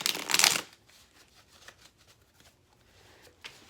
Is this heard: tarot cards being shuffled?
yes